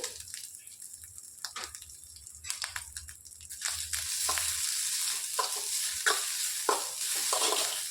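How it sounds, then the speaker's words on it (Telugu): Sesame seeds and fresh coconut fry in ghee in a pan, first with quieter stirring scrapes, then a sizzle that swells into a steady crackling hiss with occasional spatula strokes, close and alone. "ఇందులోనికి కొబ్బరి కూడా వేసేసుకొని వేయించుకోవాలి"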